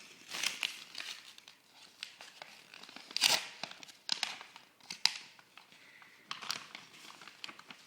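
Paper tearing and crinkling as a greeting card envelope is pulled open, with intermittent close rips and rustles spread across several seconds, fairly quiet and near.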